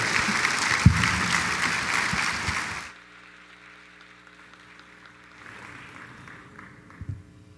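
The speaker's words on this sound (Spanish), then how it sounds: "les pido recibir con un aplauso" An audience claps steadily for a few seconds to welcome a pastor at a church service, then the applause stops abruptly, leaving a quiet hum and faint room sounds.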